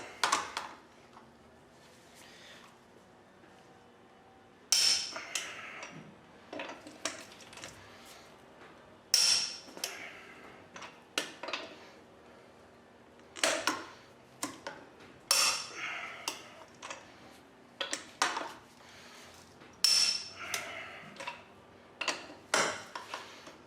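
A torque wrench tightens the lug nuts on a Ford F-150 parked on the ground, giving repeated sharp metallic clicks in separate bursts at regular intervals, close and fairly quiet, with no talking.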